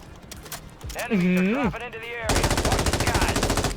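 Rapid automatic gunfire in the shooter game Warzone bursts out loudly in a dense, fast rattle after a short stretch of voice and game sounds.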